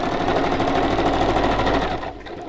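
A sewing machine stitching through the pages of a handmade book, running loud and close in a fast, steady mechanical chatter for about two seconds before stopping abruptly.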